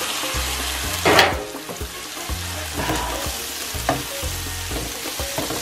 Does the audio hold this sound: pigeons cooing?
no